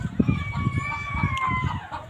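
Native free-range chickens cluck close by in short repeated bursts, with a rooster-like call drawn out over the top, all fairly loud.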